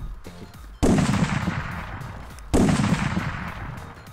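Gunfire in the video game Ark Survival Evolved: two loud, close blasts, each with a long noisy decay, about two seconds apart, with no voices over them.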